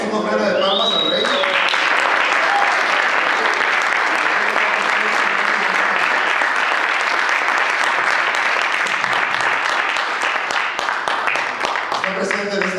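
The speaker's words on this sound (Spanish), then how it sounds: "Le damos una ofrenda de palmas al Rey." A church congregation claps together in a sustained, dense, loud wave of applause lasting over twelve seconds, with voices faintly mixed in near the start and end.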